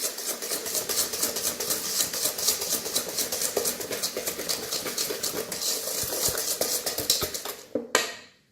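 A whisk or spoon works eggs into brownie batter in a bowl, giving a dense run of quick scraping, sloshing strokes that stay close and steady, then stop abruptly near the end.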